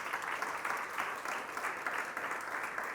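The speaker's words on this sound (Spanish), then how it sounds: "Denle un fuerte aplauso al Señor Jesucristo." A church congregation claps during a Spanish-language sermon, a moderate, rippling wash of applause heard at some distance in a reverberant room, steady across the whole stretch.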